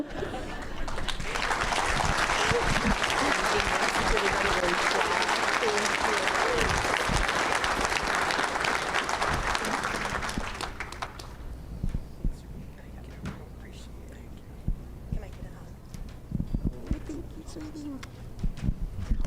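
Loud, sustained applause from a banquet and awards ceremony audience fills the first ten seconds, then fades into room murmur with scattered claps and knocks while people talk.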